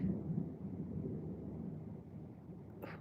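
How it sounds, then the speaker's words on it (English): Low thunder rumbles steadily through the whole stretch as a storm draws nearer, a broad deep roll with no voices over it. "there's thunder. It's getting louder."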